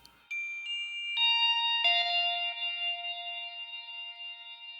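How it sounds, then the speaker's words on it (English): Clean electric guitar notes through a Princeton Reverb amp are struck one after another and left ringing, blending into a soft, sustained wash of heavy reverb. "there's a Princeton reverb, so I can call it a pad and get away with it"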